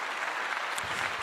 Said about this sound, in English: let me give you a clap for saying that